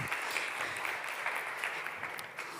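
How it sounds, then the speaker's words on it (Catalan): An audience at an outdoor festival gives steady, dense applause. The clapping is fairly distant and even, and it holds for the whole stretch. "un aplaudiment, sisplau"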